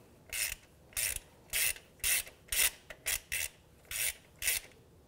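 A hand ratchet snugs up the bolts on a neutral safety switch of a 2003–2011 Honda Element, about ten close, bright clicking bursts in a loose, steady rhythm with no talk.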